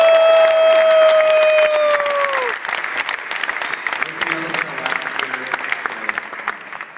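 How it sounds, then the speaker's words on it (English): Audience at a film festival Q&A for the 1998 film "54" breaks into loud applause, strong at first, then thinning into scattered claps under murmuring voices. "Round of applause."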